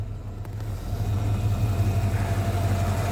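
A car engine running slightly rough at idle after an inspection, without a PCV valve, gives a close, steady low rumble with a faint uneven pulse, growing a little louder after the first second.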